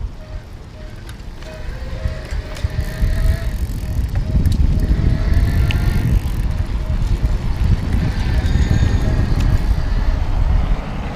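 An EG Barcelona electric bike rides on pedal assist, its motor whine humming steadily under rushing wind and road noise that builds and holds for several seconds.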